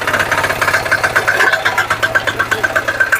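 A 7hp Kama power tiller engine runs close by, a loud, steady idle with rapid regular pulsing and a mechanical knock throughout.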